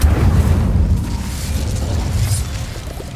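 Fiery spell blast in the game Hogwarts Legacy, a loud low boom that erupts at once and rolls on as a dense rumble, slowly easing off over a few seconds.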